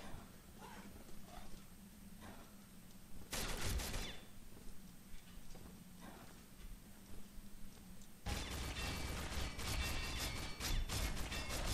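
Gunfire in the online shooter Combat Arms, Quarantine mode: two loud bursts of rapid shots, a short one early and a longer sustained volley near the end, with quieter game ambience between.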